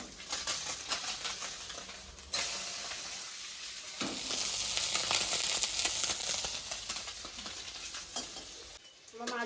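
Prawns coated with salt and turmeric sizzle in hot oil, a loud, continuous hiss and crackle with stirring scrapes and a brief dip partway through.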